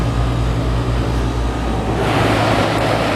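A 2021 Goodman GPH1442 heat pump runs in cooling mode, giving a steady, loud broadband whoosh with a low mechanical hum beneath, the airflow noise swelling slightly brighter partway through, with no talking.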